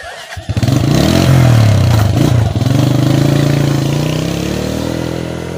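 A motorcycle engine starts up loudly nearby, revs briefly, then settles into a steady, throbbing idle.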